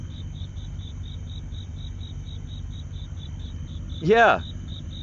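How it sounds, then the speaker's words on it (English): Crickets chirp in a steady, regular rhythm throughout, with a brief spoken word near the end over the insect sound. "I thought the crickets in the background would give a"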